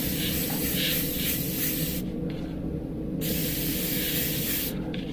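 An airbrush sprays Liquitex paint onto a Minion figure with a steady, close hiss that cuts out briefly twice as the trigger is released and pressed again.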